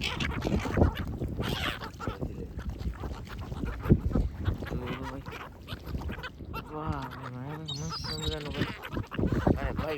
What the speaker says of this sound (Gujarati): ત્રણે ત્રણ મોટી બતકો છે